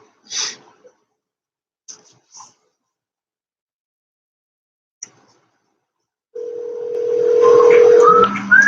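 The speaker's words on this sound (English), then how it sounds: "Let me call my other phone." A phone rings through to another phone: faint clicks and short tones, then a loud steady call tone that builds near the end with a rising chirp, while a person breathes nearby.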